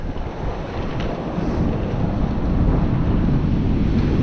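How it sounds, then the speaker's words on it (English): Ocean waves wash steadily onto a beach under strong wind buffeting the microphone, a continuous roaring wash with no voices. "it seems like this is just a never-ending set of waves"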